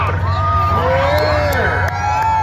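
Spectators cheer at a monster truck event at Marysville Raceway, a loud, continuous crowd roar layered with rising and falling shouts and whoops from many voices.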